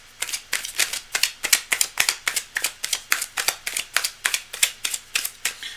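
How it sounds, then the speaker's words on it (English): A deck of tarot cards being shuffled close up, a quick, even run of crisp papery riffles and snaps repeating steadily with no voices. "I'm just going to shuffle this up"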